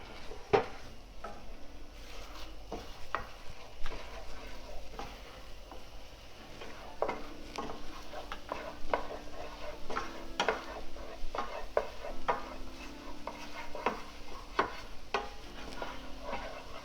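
Scrambled eggs for a breakfast burrito are stirred in a hot pan: a close, soft sizzle under frequent scraping and tapping strokes from a utensil, steady throughout, with no talking.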